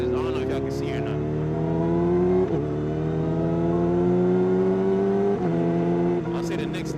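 A Yamaha R6 motorcycle ridden at night gives a steady engine drone that rises in pitch through the gears, with brief dips at shifts, while a rider talks over it.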